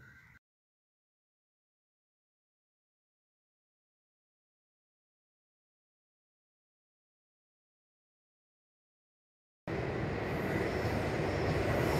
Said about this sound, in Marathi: शांततेचा भंग करत कधीतरी एखादी ट्रेन धडधडत येते